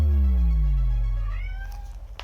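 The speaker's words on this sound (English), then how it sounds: "That was my cat." A cat lets out one long, drawn-out meow close by, a loud moaning call that slowly falls in pitch and fades, ending with a faint click.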